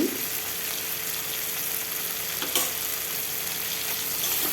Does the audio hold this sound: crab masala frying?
yes